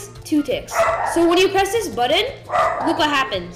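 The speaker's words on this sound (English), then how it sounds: "I'm sorry that my dog is barking" A dog barks and yips repeatedly beneath a man explaining a Minecraft slime block elevator build, its sharp barks and whiny yelps tangled with his steady talk throughout.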